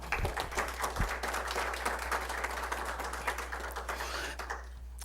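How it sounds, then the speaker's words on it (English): Applause from the audience at a board of education meeting, a steady spread of many hands clapping throughout, moderately loud over a low constant hum, with no voices. "Would you give them a round of applause, please?"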